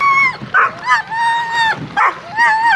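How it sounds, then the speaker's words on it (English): An excited, happy dog whines and whimpers in long rising cries broken by short yips, close and fairly loud, in repeated bursts across the moment. "There's a happy dog."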